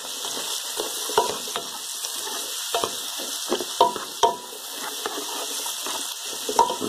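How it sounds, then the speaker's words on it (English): Crushed garlic sautés in a pan with a continuous close sizzle, punctuated by irregular clicks and light scrapes of stirring. "I'm going to crush the garlic and add that in right now"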